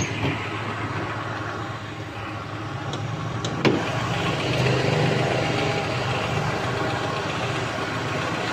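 A used 2008 Daewoo Gentra's engine idles in its open engine bay with a steady, smooth low hum and a light click partway through, close and even throughout.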